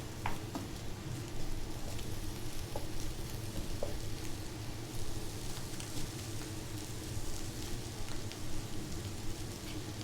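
Vegetables sizzling in a pan as curry powder is stirred in for a shrimp and mushroom curry, a soft constant frying crackle with occasional light clicks of stirring, faint and steady.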